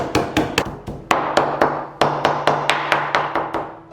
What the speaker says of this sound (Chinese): 再用刀背剁碎